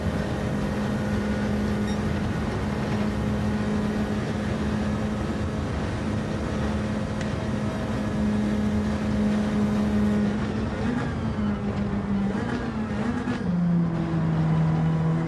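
A Lotus Cortina twin-cam engine in the Gran Turismo 7 racing game drones steadily at a constant pitch, then shifts slightly in tone near the end, with no talk over it.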